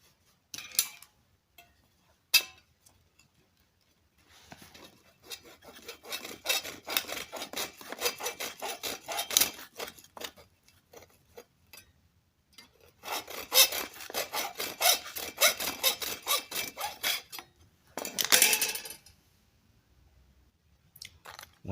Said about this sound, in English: I'm going to cut it off with a hacksaw.